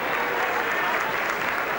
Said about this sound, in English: the crowd very appreciative in their applause of this little man, Alan Langer